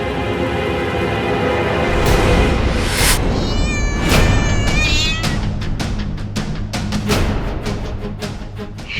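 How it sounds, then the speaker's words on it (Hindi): A cat meows loudly and insistently, several drawn-out, wavering cries in a row, close up over background noise and music from a Hindi fantasy television drama. "बिल्ली"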